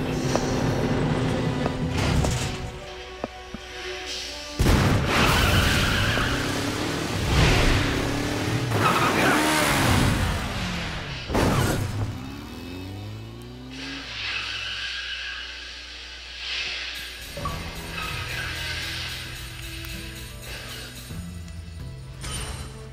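Motorcycle riding in the video game Resident Evil 6: engine revs climb and fall in sweeping tones, with tire skids and crashing game effects layered over a constant backdrop of game sound.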